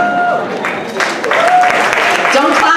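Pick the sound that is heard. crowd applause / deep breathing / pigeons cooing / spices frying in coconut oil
crowd applause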